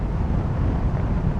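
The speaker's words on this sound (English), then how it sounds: "now the wind has picked up" Strong wind buffets the microphone in a steady, loud, low rumbling roar while riding a motorcycle, constant and unbroken with no voice heard.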